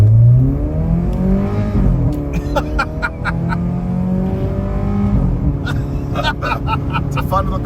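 A modified VW Polo's engine revs hard and climbs in pitch under acceleration, dropping briefly at a gear change before pulling up again, close and loud inside the car while people talk over it.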